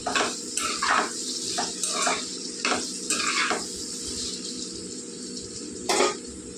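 Raw prawns sizzle in a pan and get stirred with a utensil, producing a steady frying hiss with a run of spoon-on-pan scrapes and clinks, ending with one sharper knock.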